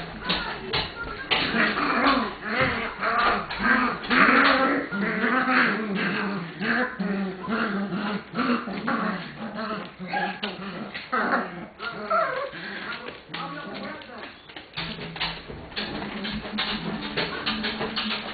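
A litter of 29-day-old puppies whimpers, yips and whines continuously and close by, with occasional small barks and tapping over a dense, busy mix of puppy noises.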